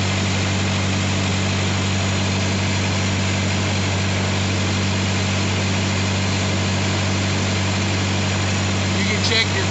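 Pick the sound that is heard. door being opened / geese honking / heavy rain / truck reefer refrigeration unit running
truck reefer refrigeration unit running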